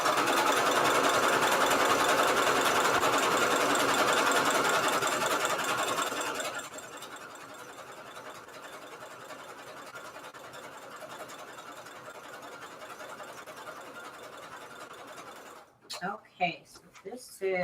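A sewing machine zigzag-stitches across an old book cover being made into a junk journal. A steady, busy mechanical whir runs for about six seconds, then stops, leaving quiet room tone and a brief voice at the end.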